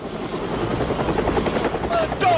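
Helicopter rotor thumping steadily and loudly, close by, with a continuous engine drone underneath and voices faintly mixed in.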